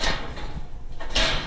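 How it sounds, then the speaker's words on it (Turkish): A door with a small mechanical latch system in a livestock barn is opened or closed, a scraping slide followed by a sharper clack near the end, close by with no talk. "Kapı."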